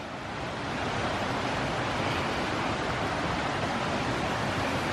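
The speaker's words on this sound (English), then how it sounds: "that's the river" A river swollen with snowmelt runoff and storm water rushes steadily in a dense, continuous roar, close and loud throughout with no voices.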